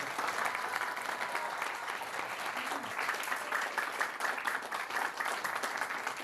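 Audience at a school donation ceremony in Gwangju gives sustained, even applause, a broad, continuous patter of many hands heard from a slight distance with faint voices underneath.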